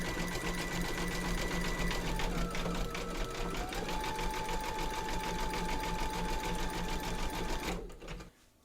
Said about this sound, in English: You're now going to pop your hoop into your machine and stitch round number 4,